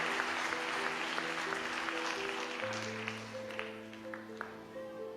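A church congregation clapping loudly during a worship service, steady rapid applause filling the room over sustained keyboard music, fairly distant and even.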